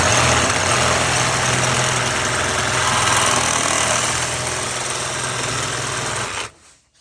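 A loud, steady mechanical drone of a running engine with a rapid vibrating rattle, cutting off abruptly at the end.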